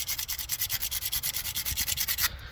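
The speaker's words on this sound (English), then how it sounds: "That's a very quick and easy way to sharpen your putty knife." Steel putty knife blade scraped back and forth across a concrete block to sharpen it, a fast, steady rhythm of about twenty close, gritty rasping strokes that stops abruptly near the end, with no talking.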